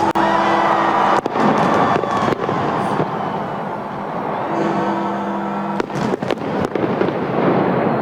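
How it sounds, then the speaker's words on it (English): New Year fireworks crackle and bang continuously at a distance, with sharp louder pops breaking through a dense rumbling wash and a murmuring crowd. "fireworks from around the world."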